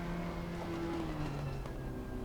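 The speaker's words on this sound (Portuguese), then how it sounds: "a gente está acelerando antes da saída dos boxes" A race car revs and accelerates in the pit lane in the Assetto Corsa Competizione racing simulator, a steady, loud engine drone with rising tonal whine, continuous and alone without talk.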